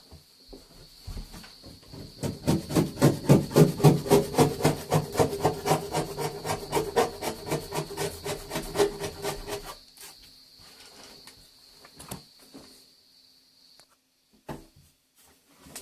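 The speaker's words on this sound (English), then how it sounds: "this is the only time you're ever going to see plaster scrape off plaster sheet" Plaster being scraped off plaster sheet in a bathroom wet area, a rapid rhythmic rasping of repeated strokes lasting several seconds, close and fairly loud, then quieter scattered scrapes.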